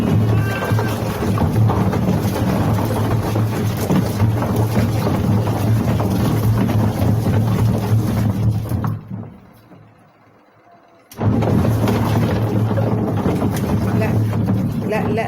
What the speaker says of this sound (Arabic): الدربكة الصوت دي اول حاجة تحرق الموتور او تبوظ المروحة بتاعة الغسالة